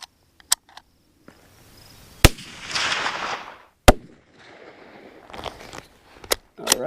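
Sharp, isolated rifle shots from a CZ 527 carbine firing 122 grain full metal jacket rounds at a range, several widely spaced cracks with quiet handling noise between them.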